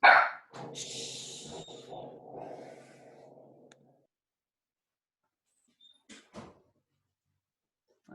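A dog barks in a room, a sharp burst at the start followed by muffled rumbling and a few faint later sounds, then near silence.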